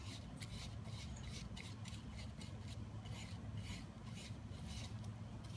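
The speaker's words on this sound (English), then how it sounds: "we're gonna apply the wax with the grain" A brush works wax along the grain of stained cedar wood, making soft, quiet, repeated rubbing and scraping strokes in a steady back-and-forth rhythm.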